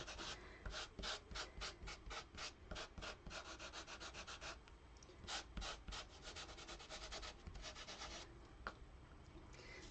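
Quick rhythmic rasping strokes of sandpaper rubbing on card, close and fairly quiet, repeating in fast bursts with short pauses between.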